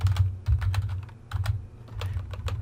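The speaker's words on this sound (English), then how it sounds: "I'm just going to type," Computer keyboard typing, a quick run of light clicking keystrokes close by, with a low hum beneath.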